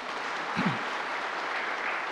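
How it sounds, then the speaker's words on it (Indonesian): Studio audience at a television talk show applauds a guest farmer, a soft, even patter of many hands heard from a distance, with a brief low vocal sound partway through. "tepuk tangan untuk Kang Irfan."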